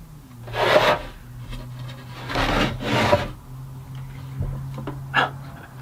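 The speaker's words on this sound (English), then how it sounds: "I'm at the point in the project where I need to sand." Wood being hand-sanded for a floating shelf, with several rough rubbing strokes in uneven bursts, close by over a low steady hum and without speech.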